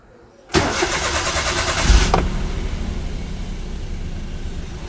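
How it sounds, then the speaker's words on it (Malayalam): A car engine cranks and fires after sitting idle two weeks on a two-year-old battery, a loud sudden start that settles into a steady close idle rumble. "നമുക്ക് വാഹനം സ്റ്റാർട്ട് ആകുമോ ഇല്ലയോ എന്ന് ചെക്ക് ചെയ്യാം"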